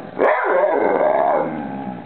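A single drawn-out, gruff vocalization from a Boxer dog, half bark and half grumbling howl, loud and close, trailing off over two seconds.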